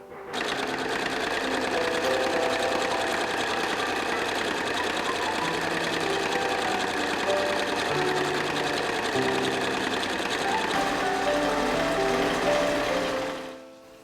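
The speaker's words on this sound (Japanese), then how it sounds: "次に中表に返して縫い代1センチで縫い合わせていきます" Sewing machine stitching a fabric seam with a 1 cm seam allowance, running in one continuous, steady, close whir for the full length before stopping at the end.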